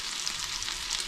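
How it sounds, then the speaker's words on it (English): Oil-coated sambal matah squeezed and kneaded by hand gives a steady, close wet squishing and crackle, continuous and fairly loud for about a second with no voices. "I'm just going to squeeze it up with my hands like this."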